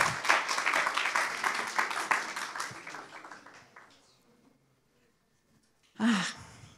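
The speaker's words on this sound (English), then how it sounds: "Let's clap and thank them very warmly for the initiative." An audience at a human rights day event applauds an exhibition of posters, clapping fairly dense at first and gradually thinning and fading out, then a brief loud burst near the end.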